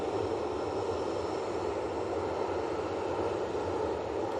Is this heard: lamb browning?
no